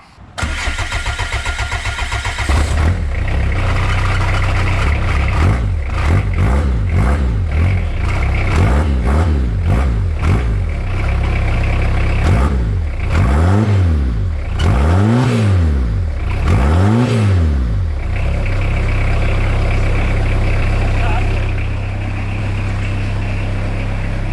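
BMW M57 diesel engine fitted in a Suzuki Vitara cranks and fires for its first startup, loud and close, with repeated revs rising and falling before settling into a steady idle.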